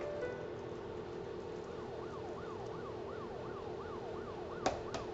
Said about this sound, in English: Okay, police sirens.